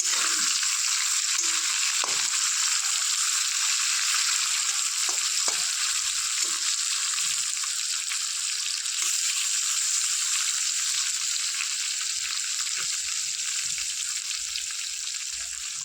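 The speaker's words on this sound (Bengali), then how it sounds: "চিংড়ি মাছটা আমি এইভাবে ভেজে নিয়েছি" Prawns sizzle steadily in hot oil in a pan, a loud continuous frying hiss with occasional soft stirring knocks, close and without voices.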